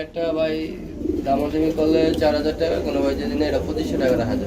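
Pigeons at a pigeon farm coo in loud, close, rolling repeated calls, with people talking over them throughout.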